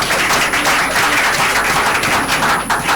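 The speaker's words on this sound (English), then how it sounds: "Make we clap again for the women." Crowd applause during a Nigerian radio family programme, a dense, steady wash of many hands clapping throughout, fairly loud and continuous with no pauses.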